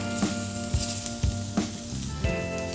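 Foie gras sizzles steadily in the same hot pan just used for lamb, with a constant frying hiss and a few louder bursts as the pieces are moved or turned.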